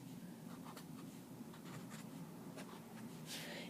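A pencil sketches a triangle on paper, with soft scratchy strokes in short bursts and a few separate lines, faint and close.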